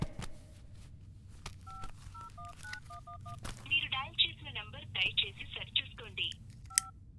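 Several short bursts of touch-tone dialing beeps in quick groups, followed by a ringing or connecting tone, with voices speaking over the latter part.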